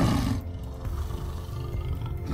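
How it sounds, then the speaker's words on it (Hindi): A tiger gives a loud, deep roar, a sustained growling blast that fills the short moment with no talk over it. "बाघ के चिंगारने की आवाज़ सुनकर"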